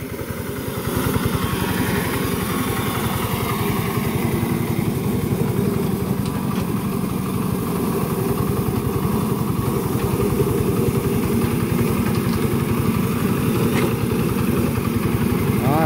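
A small IHI mini excavator's engine runs steadily and loudly at close range while working garden soil and building up a bank, a constant mid-pitched drone with no talk over it.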